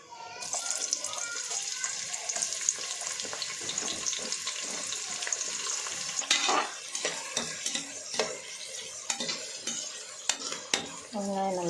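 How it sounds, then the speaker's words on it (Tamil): Sliced onions sizzle and fry in about 200 ml of oil inside a pressure cooker, with a spoon stirring and scraping against the metal in irregular clanks over a steady hiss. "வெங்காயம் நல்லா பொன்னிறமாகறதுக்கு நம்ம சேர்த்துக்கலாம்"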